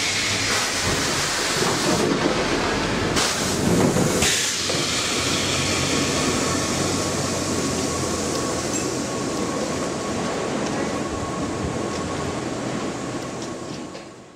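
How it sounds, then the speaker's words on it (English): A train approaching Portsmouth and Southsea station on the Isle of Wight's Island Line, a loud, steady rumble that swells and fills the whole stretch, with heavy low roar and brief bursts early on before easing slightly at the end. "there is a train coming"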